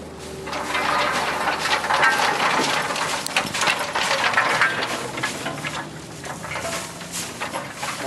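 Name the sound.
peas being loaded into the Huller Pro 2000 drum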